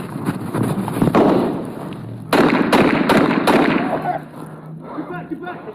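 Several sharp handgun shots from a criminal's SCCY pistol crack out during a police shootout, a few loud reports spaced about a second apart over a busy, noisy background with voices.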